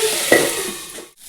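Potatoes and onion frying in a pan with nigella seeds and dried chilli, giving a steady close sizzle with a brief clatter of stirring, then fading quiet near the end.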